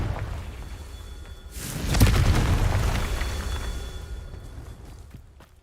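Fire spell explosion in the Hogwarts Legacy video game: a rising whoosh into a deep booming blast that rumbles and fades over a few seconds, fairly loud, no voices.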